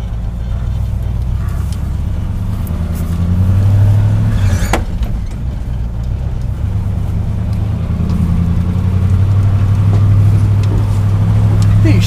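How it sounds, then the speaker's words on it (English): A low-geared Chevy dump truck pulls away with a steady, loud low engine drone that rises slightly as it gets underway, heard close from inside the cab. "These Chevy dump trucks are so ungodly low-geared."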